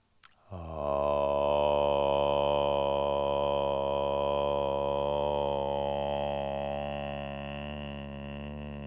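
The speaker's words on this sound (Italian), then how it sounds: "risuoniamo con un om" A sustained sung "om" chanted during a basic yoga breathing practice, one long steady resonant tone rising at onset and holding evenly for about eight seconds before fading slightly, close and alone.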